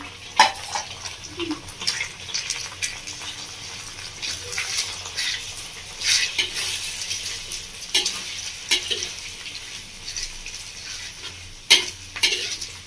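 Beaten egg being stirred into frying pointed gourd (potol) in a pan, an ongoing close sizzle broken by frequent scraping spatula strokes and occasional sharper knocks against the pan, no talking.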